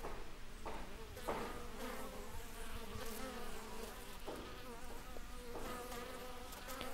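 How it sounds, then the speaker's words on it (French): Many honeybees buzz continuously close by outside a hive in sunshine, a dense outdoor hum with individual insects droning past. "il fait soleil et de nombreuses abeilles sont dehors"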